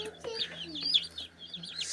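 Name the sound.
Cornish Cross chicks clucking in coop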